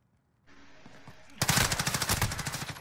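Rapid automatic gunfire from a shooter video game breaks out loud and close after a quieter stretch of background game noise, with dense bursts continuing to the end.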